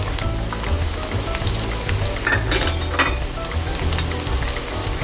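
Spices with onion, green chillies, coriander powder, turmeric and salt roasting in a pan for besan gatte curry, a steady close sizzle and crackle with faint stirring scrapes, no talking.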